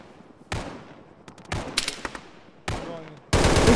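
Bursts of gunfire from ArmA: several sharp volleys and rapid shots arrive at intervals, ending in a loud, sustained burst.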